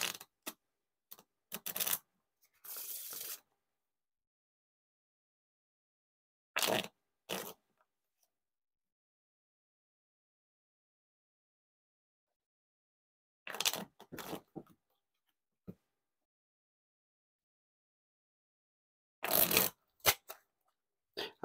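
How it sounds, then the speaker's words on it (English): A riffle or bridge shuffle of a 1st Playing Cards v2 deck, heard as several short, close bursts of fluttering card riffles separated by long silent gaps. "Now time for the riffle shuffle or bridge shuffle."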